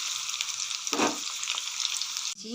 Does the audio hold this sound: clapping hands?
no